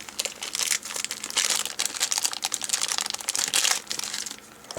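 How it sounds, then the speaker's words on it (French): Plastic packaging around a USB data cable being pulled and torn open, with loud close crinkling and crackling in uneven bursts and no voices. "Alors si j'arrive à ouvrir le paquet."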